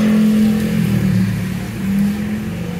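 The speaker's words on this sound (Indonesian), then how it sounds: "saya hidupkan mobilnya" A Suzuki SX4 S-Cross engine runs at a raised cold-start idle, a loud steady drone with a slight rise and fall in pitch and no talking.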